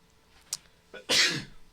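A single short sneeze, sharp and close, preceded by a faint intake of breath.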